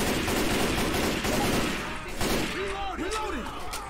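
Rapid gunfire rattles through a Left 4 Dead 2 match in dense, loud bursts, with players talking over it and a few short tonal game sounds near the end.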